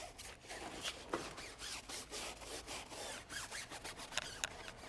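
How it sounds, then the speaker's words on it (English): A tire on an Infiniti QX80 that was in an accident gets scrubbed by hand, giving close, quiet brushing and rubbing strokes that repeat in an uneven rhythm with no voices over them. "A little bit of scrubbing on this tire."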